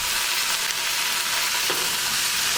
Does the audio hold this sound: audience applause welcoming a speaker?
no